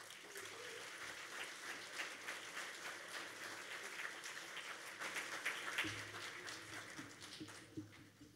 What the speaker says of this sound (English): Big round of applause, Mehmet Aludis